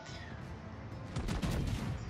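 Heavy naval gunfire from a warship in a clan battle of a naval combat game, a dense burst of overlapping booming shots swelling loudly in the second half with no talking.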